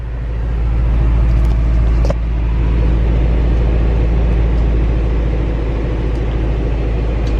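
Steady low engine rumble and road noise inside a hard-body mini truck with headers, driven with the windows up and the AC on. The drone is loud and continuous, with one brief knock near the middle and no talking.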